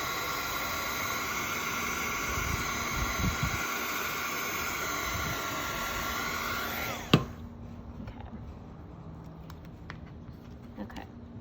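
A heat gun blows hot air over a 3D printed plastic face mask, giving a steady, fairly loud rushing hiss with a faint whine that runs for about seven seconds, then cuts off with a click, leaving quiet room noise.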